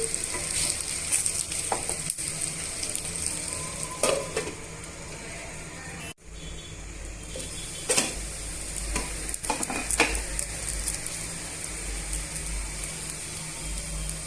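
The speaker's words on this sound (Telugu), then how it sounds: "మిక్స్ చేసుకొని మూత పెట్టుకొని మనం మగ్గించుకుందామండి" Raw banana pieces with curry leaves cook in a covered pan, giving a constant soft sizzle with occasional stirring scrapes and a few metallic clinks of the lid or utensil.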